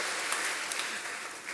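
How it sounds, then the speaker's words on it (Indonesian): A short burst of audience applause, steady, dense clapping from a room full of people. "Tepuk tangan dong."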